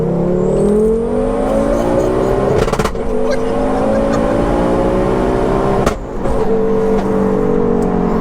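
Turbocharged, 4WD-swapped Ford Focus ST at 530 bhp, heard from inside while accelerating hard: a loud, continuous engine roar climbs steadily in pitch through the gears, with brief dips at the shifts.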